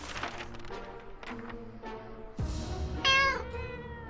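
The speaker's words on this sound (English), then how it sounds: "Out of the bag. We got a cat." A cat meows from inside a bag in the video game 60 Seconds, a clear, drawn-out meow near the end over game music and thuds.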